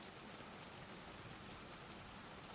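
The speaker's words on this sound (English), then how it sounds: "It's raining." Steady rain falls around an old greenhouse, a soft, even hiss of constant drops that holds unchanged for a few seconds, faint and close with no voices.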